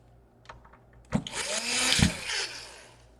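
Screws being driven into the case of an MSI GF63 Thin laptop during a repair: a few small clicks, then a steady, close whirring buzz lasting about a second and a half that fades out.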